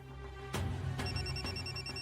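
A telephone rings in repeated electronic bursts over a steady low hum, the ring starting about halfway through and pulsing evenly.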